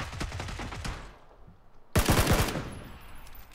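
Gunfire in PlayerUnknown's Battlegrounds: a rapid burst of automatic shots, a brief lull, then a second louder volley of quick rattling shots, close and sharp with no talk.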